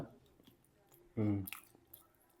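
A person chews idli and vada during an eating challenge, with one loud, close, squishy bite and chew in the middle and softer mouth sounds around it.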